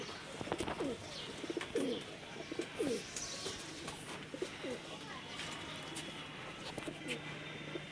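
Pigeons in a full loft of male birds coo softly and repeatedly with occasional chirps, close but faint, while someone talks quietly over them.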